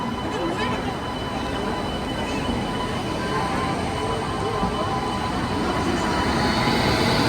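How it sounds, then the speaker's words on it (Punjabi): A train arrives at railway platform 5, giving a steady, loud rolling rumble with metallic rail noise that holds for the whole stretch, while voices murmur faintly underneath. "ਟ੍ਰੇਨ ਆ ਚੁੱਕੀ ਆ"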